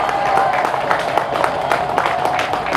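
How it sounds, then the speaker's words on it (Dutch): A crowd claps and cheers at the podium ceremony for the winner of the women's cyclocross race at the Rekkerwijk Ladies Cross, Parkcross 2022; dense, steady applause fills the whole stretch. "Dames en heren, jullie applaus voor de nummer 1 bij de Rekkerwijk Ladies Cross"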